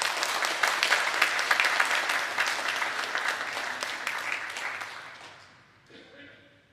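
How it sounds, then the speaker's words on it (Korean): A Sunday church congregation applauds to welcome an elder coming forward: dense, lively clapping from a full room that holds steady, then tapers off over the last couple of seconds into a quiet room tone. "우리 박수로 환영하겠습니다"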